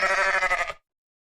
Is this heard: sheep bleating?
yes